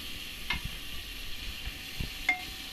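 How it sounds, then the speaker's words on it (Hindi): Onions frying in a pan for moong dal khichdi, a faint low sizzle with a few soft stirring taps and scrapes. "उसके बाद मम्मी प्याज डाल रही हैं"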